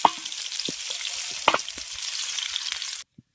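Potatoes fry in hot oil in a pan, a loud, close, steady sizzle with a few stirring knocks, cutting off abruptly before a last faint tap.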